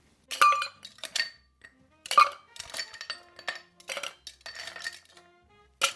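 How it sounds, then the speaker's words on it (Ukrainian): Ice cubes clatter into a metal cocktail shaker for a tequila margarita, a series of bright clinks and knocks in irregular bursts, close and clear with no talking. "Додаємо на наш шейкер лід."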